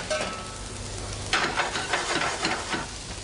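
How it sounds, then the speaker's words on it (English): Prawns sizzle and crackle in a hot frying pan, with bursts of louder spitting as more go in, steady and close. "then you put your prawns into the frying mixture"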